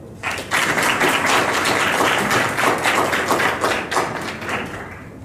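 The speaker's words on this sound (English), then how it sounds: "Let's give the dance group another round of applause." An audience applauds a dance group at an expert panel event, with dense, steady clapping filling the room, swelling quickly and holding loud for several seconds.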